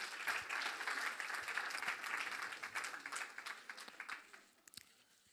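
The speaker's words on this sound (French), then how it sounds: "On peut les applaudir également bien fort" An audience gives applause for star chefs at a cooking competition, a fairly brisk burst of clapping that thins out and fades over the last second or so, leaving a few scattered claps.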